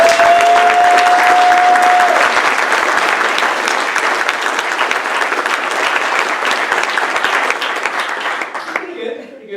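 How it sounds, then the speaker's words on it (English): Loud, dense applause from a conference audience at a tech talk, sustained for about nine seconds before tapering off abruptly, with a brief tone at the start and a voice faintly underneath. "By sound of applause, who here is sitting in a chair today?"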